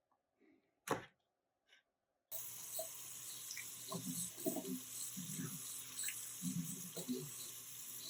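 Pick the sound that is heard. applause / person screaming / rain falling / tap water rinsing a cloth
tap water rinsing a cloth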